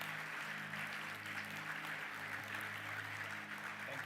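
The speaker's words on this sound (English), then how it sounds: "Round of applause." A church congregation applauds after a check presentation, a faint, steady wash of clapping from a crowd with a low hum underneath, distant and even throughout.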